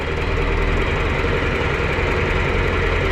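A 60-year-old John Deere 8300 tractor engine idles steadily, a loud, continuous low rumble with a rough knocking texture and no pauses.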